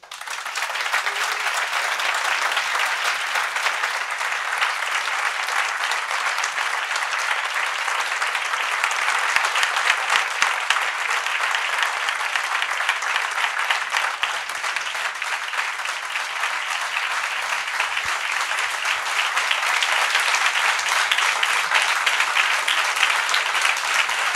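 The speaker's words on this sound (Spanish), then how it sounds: "creo que los aplausos lo han dicho todo" Sustained applause from a large audience at a Palestine solidarity event, steady and loud for the whole stretch, with no voices standing out.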